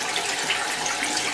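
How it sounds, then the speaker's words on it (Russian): Cold water gushing at full force from a bathroom tap in rented holiday lodging, a dense, steady rushing splash heard close up with no talking. "холодный кран открывается очень интересно"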